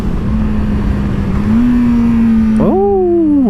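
A 2016 Kawasaki Z800 ABS motorcycle engine drones at a steady, loud pitch while riding, then the revs drop away smoothly as the throttle closes into engine braking.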